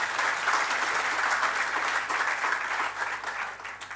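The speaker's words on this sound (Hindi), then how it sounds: "अरे दूसरों के स्वागत में तो हमेशा तालियां बजाते हो, कभी अपने भाग्य में भी बजा लो।" Steady audience applause at a Jain monk's sermon, a dense wash of many hands clapping at once, sustained throughout and fading slightly toward the end.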